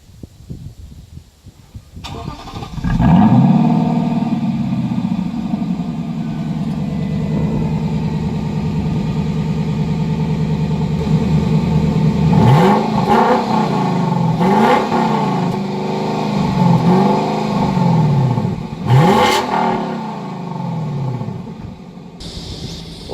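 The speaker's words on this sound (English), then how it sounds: "So it's a fairly high revving engine, but it is an absolute delight to listen to." A 2019 Lexus LC 500 V8 starts and settles into a steady, loud idle, then rises into several sharp revving blips close by, with no voices.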